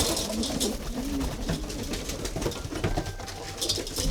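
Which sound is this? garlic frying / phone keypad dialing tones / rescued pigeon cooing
rescued pigeon cooing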